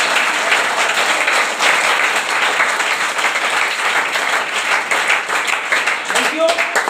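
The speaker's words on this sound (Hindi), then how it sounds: "जिसकी वजह है हम ताली बजा रहे हैं" Sustained applause and clapping from an audience at a meeting session, steady and loud for the whole stretch, with voices faintly mixed in beneath it.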